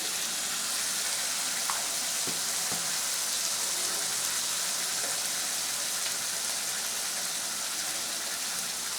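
Spice paste with onion, salt and turmeric frying in a pan for a small-fish chuno curry, giving a steady, dense sizzle that crackles evenly throughout with faint occasional clinks.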